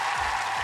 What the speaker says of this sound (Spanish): Te mandamos un aplauso a la distancia